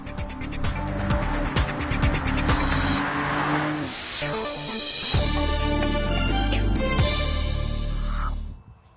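An SUV with a 3.0-liter six-cylinder engine making 340 horsepower drives past, loud and steady, with a tire squeal and shifting engine tone, then fades out at the end.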